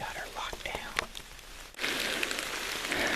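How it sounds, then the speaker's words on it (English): Rain patters steadily on leaves and ground in mountain woods during a whitetail hunt, under soft whispering that gives way to a louder, denser wash of rain partway through. "It's raining"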